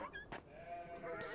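Sheep in Beyond: Two Souls let out faint, short bleats, a couple of brief wavering calls over quiet background ambience.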